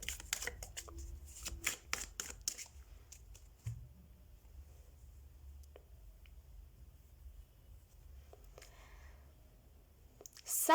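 Tarot cards being shuffled by hand up close, a quick flurry of crisp riffling slaps for the first few seconds, then softer sliding and handling with a few faint clicks in a quiet room.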